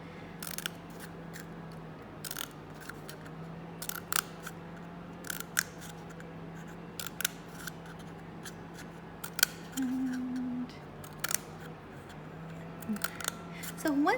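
Scissors snip repeatedly at close range, crisp cuts coming in irregular bursts as the blades work around a shape, over a low steady hum with a brief voice-like tone in the middle.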